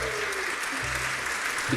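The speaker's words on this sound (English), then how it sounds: "Give yourselves a round of applause!" Audience applause at a corporate musical entertainment show with a classical orchestra, a steady dense wash of clapping lasting the whole short moment, fairly loud, with a faint voice underneath.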